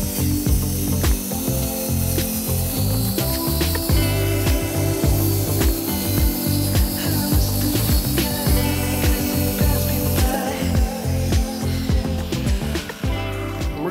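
A power saw cuts 1x3 wood trim pieces for a renovation build, giving a loud, continuous cutting roar with rattling, ratchet-like clatter throughout and no talking.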